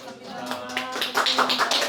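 An audience applauds after a lecture at a company talk, a dense burst of hand clapping building over a couple of seconds, close and fairly loud, with a voice speaking over it.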